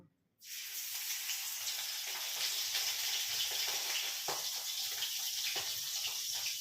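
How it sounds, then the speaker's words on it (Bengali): Pomfret fish frying in a pan of oil, a sudden burst of loud hissing sizzle that starts after a brief silence and then holds steady with small crackles and pops, no voices. "এই যে পমফ্রেটগুলো ফ্রাই করি আগে"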